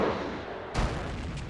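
An artillery gun fires once in a video game, a single sharp boom midway followed by a rumbling tail over steady background noise.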